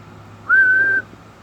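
A single steady whistle lasting about half a second, sent into a CB radio microphone to test a custom competition two-pill 10 and 11 meter amplifier, loud and clear over a low hum.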